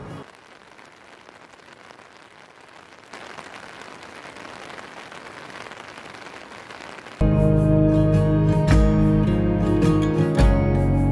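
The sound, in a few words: rain falling outside a glamping tent at night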